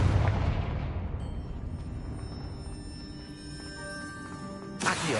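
A Confringo fire spell from the Hogwarts Legacy video game bursts with a loud boom at the start, then fades into a lingering rumbling tail with steady tones, before a second short burst near the end.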